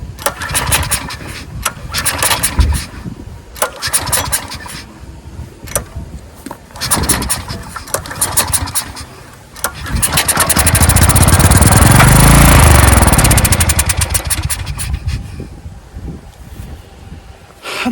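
A 14-year-old Briggs and Stratton generator that sat unused for over five years, its pull-start cranked in several bursts of sputtering before the engine catches and runs loudly and roughly for several seconds, then cuts back to uneven sputters.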